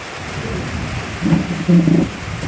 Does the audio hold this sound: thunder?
yes